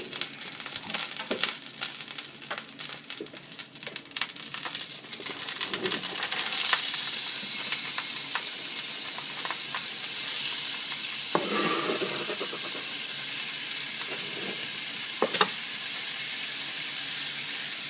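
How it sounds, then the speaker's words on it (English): Chopped onion drops into heated oil in a pan, the first clattering stir giving way to a loud, steady sizzle broken by occasional scrapes. "Get the oil heated up. And in goes the onion."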